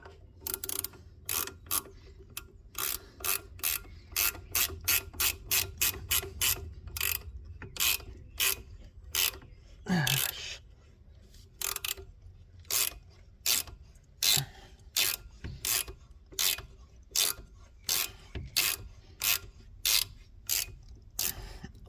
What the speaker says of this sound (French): clé de 13, on serre en cliquet.